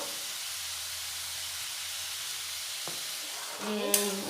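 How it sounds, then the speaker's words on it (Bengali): Potatoes frying in hot oil with salt and turmeric give a steady, close sizzle and hiss, with a brief stir near the end. "আলুগুলো খুব ভালোভাবে নুন হলুদের সাথে মিশিয়ে লাল করে ভেজে নেব"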